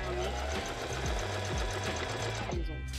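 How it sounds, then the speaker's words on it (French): A sewing machine stitches strips of stretch swimsuit fabric right sides together, running in a steady rapid rhythmic chatter close by, with a brief stop near the end and a person talking over it. "je vais coudre endroit contre endroit comme ça"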